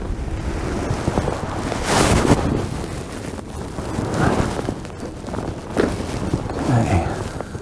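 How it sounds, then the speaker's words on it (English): Cold wind buffets the microphone at a fishing lake, a steady broadband roar with gusts swelling and easing throughout. "That wind's cold today."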